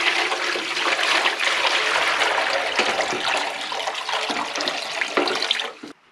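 Nutrient solution of reverse-osmosis water, HydroGrow and calcium nitrate poured into a hydroponic reservoir in a greenhouse: a loud, steady rush of splashing water that fades and stops at the end.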